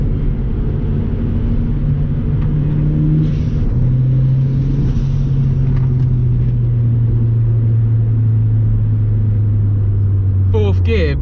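Turbocharged Honda Civic EP3 engine under load in fourth gear, droning loudly and steadily as it holds against boost cut at 5,000 RPM, a sustained in-cabin roar with a brief higher burst at the end.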